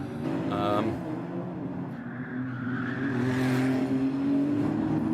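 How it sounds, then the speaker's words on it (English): A Ferrari 296 Challenge race car drives a qualifying session at Las Vegas, its engine roaring steadily and rising in pitch as it overtakes another car, loud and close throughout. "follow the 33 car of Michael Verhagen then, driving for Ferrari Warsaw here in this Las Vegas round as he finds his way past another car then."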